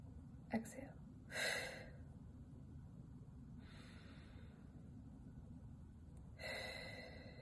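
Slow, deep breaths drawn in and let out during a guided grounding exercise, heard as soft airy rushes close to the microphone, one short and two longer, separated by quiet pauses over a low steady background hum.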